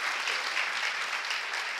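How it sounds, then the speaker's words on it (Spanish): Warm studio audience applause for a guest named Fran, a continuous, fairly loud wash of many hands clapping with no voices over it. "Aquí está un aplauso para Fran"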